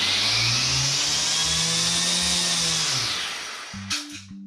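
A TOWA battery-powered line trimmer power head, converted from gas, runs at high speed with a loud continuous whine, then winds down and sputters into short pulses near the end.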